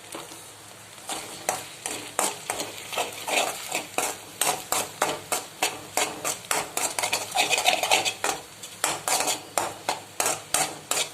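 Wheat egg noodles tossed with pepper and salt in a hot pan, a long run of rhythmic scraping stirs about twice a second, close and loud over a soft sizzle.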